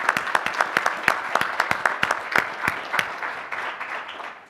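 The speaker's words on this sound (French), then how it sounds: "je vous donne une main d'applaudissement pour ce que vous avez fait dans les deux dernières années pour nous" An audience at a panel discussion claps in thanks, with distinct individual claps standing out in a steady round of applause that gradually fades away toward the end.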